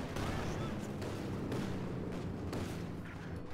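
Artillery fire in the video game Company of Heroes 2 rumbles in dense, overlapping booms and distant blasts, a continuous barrage with a few sharper hits standing out, fairly faint overall.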